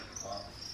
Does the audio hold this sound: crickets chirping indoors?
yes